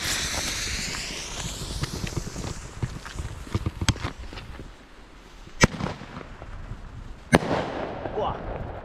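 New Year's Eve fireworks burst at midnight, with crackling and popping scattered throughout and two sharp, loud bangs standing out, fairly close amid background bustle and whistling rockets.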